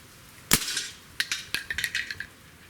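Smith & Wesson CO2 pistol firing: one sharp crack followed by a quick scatter of clinking, shattering impacts, near and loud with no talk.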